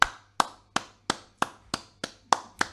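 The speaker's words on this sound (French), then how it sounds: "On applaudit" During a church sermon, hands clap in a slow, even rhythm, eight crisp, separate claps about a third of a second apart, close and distinct over a quiet room rather than a blended crowd.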